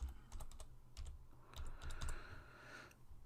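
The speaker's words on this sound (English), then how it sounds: "and we type our password." Password entered on a computer keyboard at a security camera NVR login, a quick, faint series of soft key clicks in uneven bursts, close and alone.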